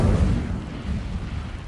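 A fire spell is cast in Hogwarts Legacy, releasing a short, deep whooshing burst of flame that swells at once and then fades into a low rumbling roar, loud and close, with no talking.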